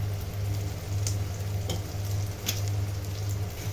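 Potatoes going into singri beans frying in masala give a steady, close sizzle with a constant low hum underneath and a few faint stirring scrapes, no voices.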